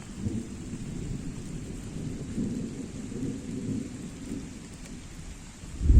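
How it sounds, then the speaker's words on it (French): Heavy rain pours down steadily during a carp fishing session, with a low thunder rumble rolling through and a deeper thunderclap swelling at the very end. "c'est une partie de pêche qui est interrompue par la pluie"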